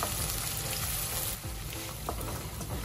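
Onions frying in a pan, a close, steady crackling sizzle with faint stirring scrapes and no talking.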